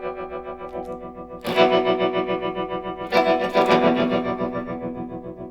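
Guitar played through a Swart Space-Tone tremolo at full depth and full speed, giving a loud, fast, choppy machine-gun stutter over sustained chords, with a fresh strum partway through.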